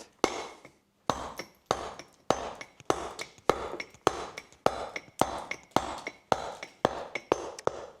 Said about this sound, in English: place the chisel back and cut. Now I'm actually going to take some off the top here.